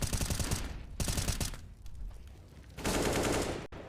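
Automatic gunfire on Dust2 during a professional Counter-Strike match, dense rapid bursts of shots at close range that pause briefly and resume, loud and continuous with no voices.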